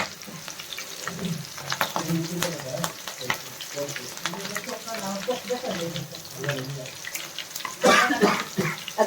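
Green chillies fry in a pan with popping, spitting sizzles. A louder burst of crackling comes near the end, and a voice talks intermittently underneath.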